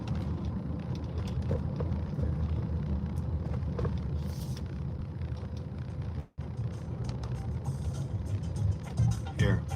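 Steady low engine rumble and road noise from a car crawling in slow traffic, continuous and fairly loud throughout, with a brief dropout midway.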